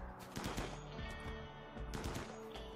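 Rapid gunfire during a Rimworld raid, bursts of sharp cracks repeating across the stretch at a steady, fairly dense rate, faint and without talk.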